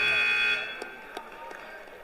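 High school wrestling match period buzzer in a gym, one loud sustained electronic tone for about half a second that fades into crowd noise and commentary.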